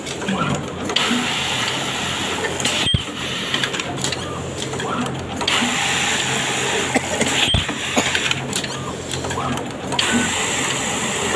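A wide-range elastic cutting machine runs in a garment factory, a loud continuous mechanical whirr and rattle broken by a few sharp clunks, with a voice speaking faintly underneath.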